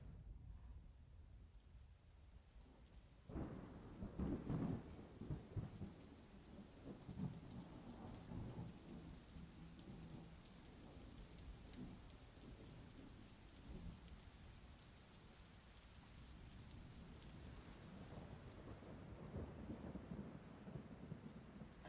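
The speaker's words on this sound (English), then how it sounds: "Oh my God, it's like actually raining." Heavy rain from a thunderstorm patters steadily on surfaces, with deep rumbles of thunder rolling through, one stronger burst early on, all fairly faint and distant with no voices.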